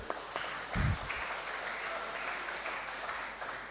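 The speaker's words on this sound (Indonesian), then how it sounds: "Tepuk tangan dulu lah, nggak sepi kali" Faint, brief applause from a church congregation for honoured young students, a soft scattered patter under low room noise with a short thump near the start.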